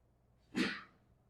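A single short sneeze in a lecture hall, fairly quiet and a little distant, in an otherwise quiet room.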